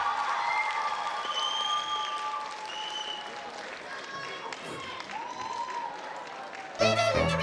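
Audience applause fills the hall at a KVN junior league gala concert in Ufa as a school team is called to the stage, with voices and music-like tones mixed through it.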